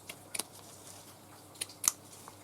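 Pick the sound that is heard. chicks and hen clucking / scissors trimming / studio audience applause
scissors trimming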